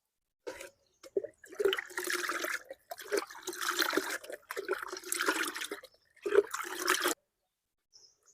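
Liquid fertilizer poured onto the ground at the base of a large fruit tree, about two liters in all, gives close splashing and trickling in several bursts with short pauses between them.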